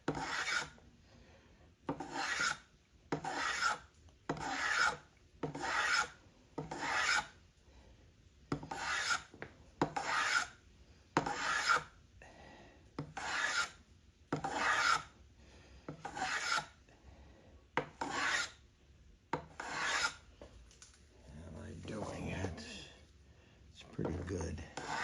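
Hand plane cutting a round-over on a wooden molding in about sixteen steady rasping strokes, close and rhythmic, each stroke a short scraping swipe with brief pauses between.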